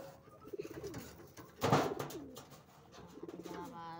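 Pigeons coo close by in soft repeated throaty rolls, with one louder burst in the middle, against quiet surroundings.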